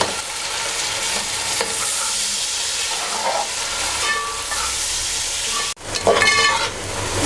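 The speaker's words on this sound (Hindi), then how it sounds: "अब हम इसके अंदर ये बारीक कटा हुआ प्याज डालेंगे" Finely chopped onions fry loudly in a pan, a dense close sizzle that runs throughout while a utensil stirs and scrapes them, with a brief dip near the end before the hiss returns.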